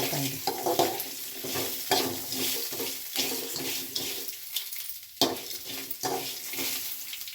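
Oil sizzles steadily in a pan while village-style soppina palya and bassaru are cooked, Mandya style, with spoon-stirring scrapes and clatter running through the hiss. It is close and continuous, with no talking.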